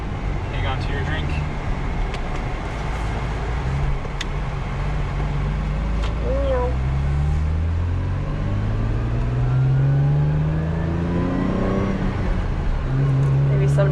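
A Lexus IS300 drives and accelerates through its gears, the engine note climbing in pitch, dropping at each shift and climbing again under steady road noise.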